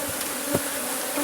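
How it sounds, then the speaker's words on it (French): Honeybees buzzing as colonies are shifted down into the lower box of a double nucleus hive, a steady close hum with a brief louder bump midway. "il fait partir les colonies, les abeilles en bas"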